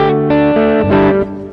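An electric guitar plays high-gain chords through a JOYO American Sound modeling pedal set for Fender tones, several distorted strums ringing loud and thick before cutting off.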